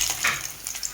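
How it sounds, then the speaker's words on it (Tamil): Mustard seeds and urad dal crackle in hot oil for a sambar tempering, a brief, close, hissing sizzle with a few small pops and no talking. "கடுகு, உளுந்தம் பருப்பு, எண்ணெய் காஞ்செண்ணெய் போட்டுக்கிறேன்."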